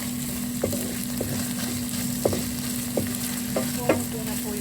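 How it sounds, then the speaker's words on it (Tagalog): A pan of squash and string bean dish with bagoong sizzles steadily as coconut milk goes in, frying hiss held at an even level with a low hum and occasional clinks of a utensil stirring. "Tapos ilalagay ko na po yung gata."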